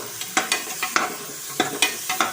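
A paste of ginger, garlic and dried chilies sautés for country chicken biryani, sizzling loudly up close while a utensil scrapes and stirs in quick, uneven strokes.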